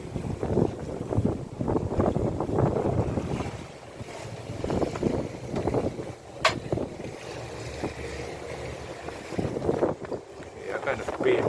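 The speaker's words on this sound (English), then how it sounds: "Wind is picking up." Wind gusting over a sailboat on open water, rough buffeting rumbles and microphone wind noise rising and falling, with a voice talking faintly at times beneath it.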